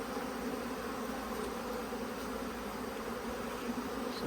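Honeybees buzz steadily in an open hive, a dense, continuous drone that stays close and even throughout with no voices.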